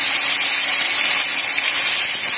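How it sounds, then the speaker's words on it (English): Loud, steady sizzling hiss of chicken pieces frying in a hot pan, continuous and close, with no voices. "place the pieces of chicken and give them a slight fry on both the sides"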